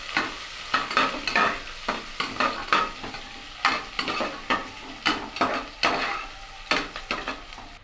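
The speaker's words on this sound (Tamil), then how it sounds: "இப்போ பச்சை மிளகாய் வதங்கினதும் வெங்காயமும் கறிவேப்பிலையும் அதில் போட்டுடலாம். போட்டு இது நல்லா வதக்கி விட்டுடலாம்." Onion, green chilli and curry leaves sautéing in a pan for a mixed vegetable kurma, a soft sizzle cut by repeated rhythmic scrapes of a spoon stirring, close up and without speech.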